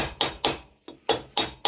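Six sharp rubber mallet blows strike a stuck metal part of a Honda CL90 motorcycle in an uneven rhythm, each a dull, close thud with a brief ringing decay.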